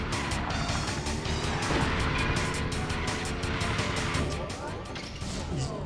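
Video game car engine in Blast Corps, a continuous loud revving drone with rapid mechanical pulsing and a shifting pitch, a player talking over it.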